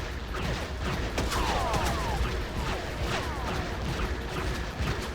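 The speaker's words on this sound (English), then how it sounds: "this is an automatic grenade launcher with a magazine capacity of 1000, and it also reloads fast" Rapid automatic grenade launcher fire in the video game BREED, a dense, continuous barrage of loud repeated blasts and crashing impacts lasting throughout, with no pauses.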